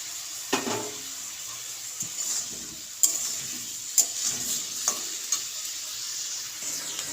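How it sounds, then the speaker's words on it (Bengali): Sliced onion and chopped green chillies sizzle in a pan while a spatula stirs them, with scraping knocks every second or so over the continuous frying hiss. "আমার পেঁয়াজটা ভালোভাবে ভাজা হয়ে গিয়েছে।"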